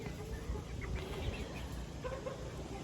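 Roosters cluck and murmur steadily in a crowded coop of about 32 birds, with a few brief calls rising over the continuous low flock noise.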